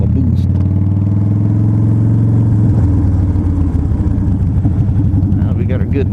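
A Harley-Davidson FXDL Low Rider's hot engine rumbles loudly through its exhaust, a heavy pulsing idle with lumpy revs that fills the scene while someone talks over it nearby.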